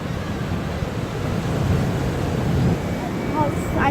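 Ocean waves at Wildwood beach, New Jersey, heard as a steady, loud broadband wash of surf with no distinct breaks, likely mixed with wind.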